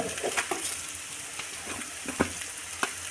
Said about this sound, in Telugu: కొద్దిగా కారం వేసుకుంటే కారం అనేది నూనెలో వేగుతుంది అనమాట